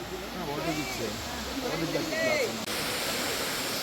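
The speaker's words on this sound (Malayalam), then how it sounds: "അപ്പോൾ ഈ കാണുന്നതാണ് എലിഫന്റ് ഫാൾസ്" Elephant Falls in Meghalaya roars as a steady, broad rush of falling water heard from nearby, with a voice talking over it.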